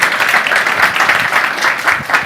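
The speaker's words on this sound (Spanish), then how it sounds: "Un aplauso." Applause from a tech conference audience as speakers are welcomed on stage, a steady dense wash of clapping across the whole short stretch with no pause.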